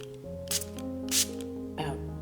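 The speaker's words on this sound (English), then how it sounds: "we are actually going to use one other tool that I didn't tell you about, and that is a small water spray bottle" A small water spray bottle mists a painted acrylic canvas in three short, crisp hissing bursts, close and clear over a sustained background tone.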